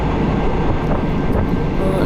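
A moving passenger train in Thailand rumbles and rattles steadily, heard from inside the dining car with its windows open, a continuous broad roar with no breaks.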